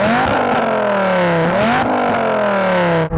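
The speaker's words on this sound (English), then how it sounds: "Adam, rev up your Viper" Dodge Viper engine revving hard in repeated rising-and-falling sweeps, loud and close, with no voices over it before a brief cut near the end.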